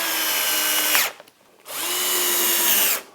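A power drill drives 4x20 screws in two close, loud whirring bursts, the motor spinning up and then stopping, separated by a short quiet pause.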